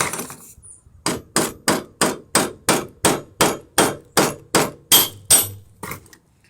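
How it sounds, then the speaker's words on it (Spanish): A steady series of about fourteen sharp metallic hammer blows rings out at an even pace on a pure lead bullet, each strike loud and close with a brief decaying clang. "qué fácil se daña una bala de puro plomo simplemente con martillazos"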